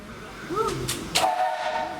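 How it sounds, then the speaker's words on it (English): A guard's whistle on the Romney Hythe and Dymchurch miniature railway, heard as two short, shrill blasts at moderate distance over a station's steady background murmur, with a longer tonal note trailing afterward. "The guards whistle again."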